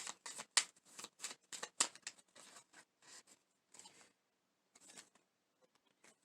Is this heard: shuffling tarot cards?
yes